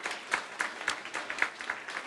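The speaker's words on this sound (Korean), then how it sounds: "우리 귀한 리더십도 다시 박수로 한번 격려하겠습니다" A church congregation applauds, a steady, moderately loud patter of many hands clapping with no voices over it.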